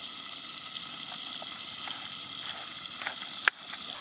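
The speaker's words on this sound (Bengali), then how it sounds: "এদিকে কচুগুলো ভাজা হতে থাক" Pieces of taro fry in oil in a pan with a steady, quiet sizzle, broken by a few faint crackles and one sharp clink near the end.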